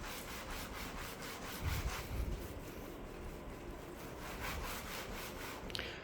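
Clay bar rubbed back and forth over Toyota Corolla paint, comparing a rough uncleaned surface with a smooth clayed one: steady rhythmic scratchy rubbing strokes, close and fairly quiet, with no talking.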